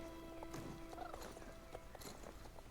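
Horse hooves clip-clop steadily alongside a short neigh in the Star Stable Online horse-riding game, clear and close against a soft musical background.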